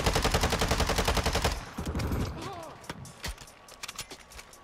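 Machine gun fire from an RPK in Call of Duty MW2, heard as a rapid, loud, steady burst for about a second and a half, followed by spent-casing tinkles, clicks and scattered distant shots.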